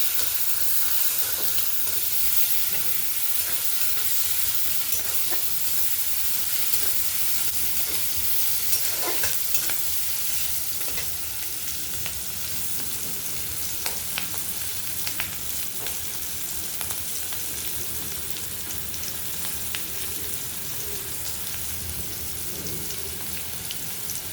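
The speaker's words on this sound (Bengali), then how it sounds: "এইভাবে ডাল বানিয়ে খাবে, খুব ভালো লাগে। একটু 5 ফোড়ন দিলে।" Panch phoron with dry red chilies tempering in hot oil for dal: a steady, close sizzle and crackle with occasional sharp pops and stirring scrapes, continuing alone throughout.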